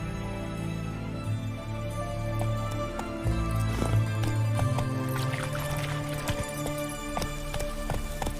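Horse hooves gallop across open ground in The Witcher, a steady rhythmic clip-clop running continuously under a busy bed of game music and ambience, fairly loud and close throughout.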